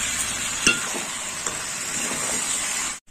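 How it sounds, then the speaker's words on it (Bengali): Mocha chicken (banana flower with chicken) frying in a pan while being stirred, a steady hiss of sizzling with a few sharp utensil clinks against the pan and a brief cut-out near the end. "আর একটু নেড়ে চেড়ে নেব।"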